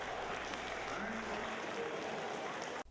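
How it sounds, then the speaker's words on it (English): An audience at a lively talk on dating applauds steadily for a few seconds, a dense wash of clapping that cuts off abruptly at the end. "Stand up and applaud if you know you are all that."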